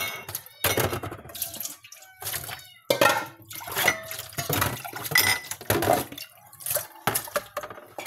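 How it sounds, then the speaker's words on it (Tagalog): Glass being washed by hand under running water, with squeaks and clinks of the glass over a steady flow of water that keeps starting and stopping, fairly close and loud. "Mangugas ako guys og baso."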